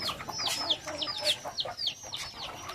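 Breeder chickens at an egg farm give a run of repeated clucks and short chirpy calls, moderately close, over a steady farmyard background with no talking.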